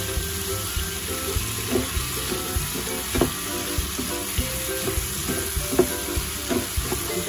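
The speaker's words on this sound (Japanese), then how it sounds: "broccoli をじっくり少しだけ炒めます" Broccoli stir-fried in a pan gives a steady, close sizzle throughout, with soft scraping and clinking from stirring.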